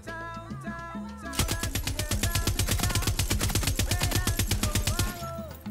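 Rapid automatic gunfire from a Far Cry 6 firefight, a steady burst of evenly spaced shots lasting about four seconds after a quieter moment, loud and close, with faint game sounds around it.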